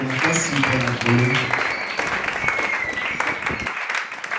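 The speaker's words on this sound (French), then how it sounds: "Acclame très fort pour le Seigneur." A church congregation claps and cheers at a Thursday miracle worship service, dense sustained applause mixed with shouting voices that fades out near the end.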